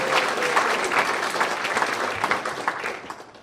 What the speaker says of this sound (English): Let's have another round of applause for our existing National Music Honor Society members.